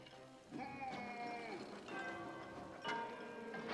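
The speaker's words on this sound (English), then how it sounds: "He's going to hit all the bells." Bells ring out as Oaf bumps into them in Castle of Illusion, bright pitched tones struck three or four times in quick succession, each chime sustaining and overlapping the next over a soft game backdrop.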